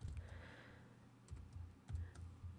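Typing on a computer keyboard while entering an Excel formula: soft, scattered keystrokes in small clusters, fairly quiet and close, with no voices.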